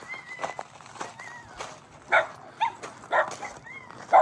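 Several puppies bark and yip in short, high bursts outdoors, scattered across a few seconds at moderate distance with some overlapping.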